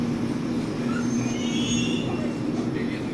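A train car rumbles and hums steadily with faint squeals of wheels on rails, a continuous moderately loud ride with muffled voices in the background.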